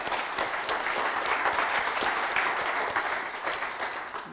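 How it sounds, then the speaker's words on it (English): An audience applauds at a business innovation event, a dense, even wash of clapping from many hands that holds steady throughout, fairly close, with no talk over it. "Round of applause for Paul."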